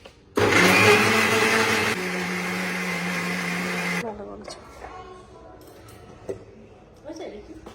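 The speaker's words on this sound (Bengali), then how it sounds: "এবার আমরা মিক্সিটা চালিয়ে" Mixer grinder roaring loudly as it blends a honey paste, running about four seconds with a shift in pitch midway, then cutting off to quiet handling noises and a voice.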